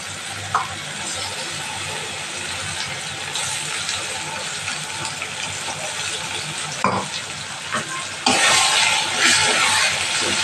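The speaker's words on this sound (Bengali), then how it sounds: "এটা ধুয়ে জল দেবো।" Water poured into cumin and coriander spice paste frying in a hot pan while cooking fish sets off a loud, steady sizzle that surges sharply near the end, with faint speech underneath.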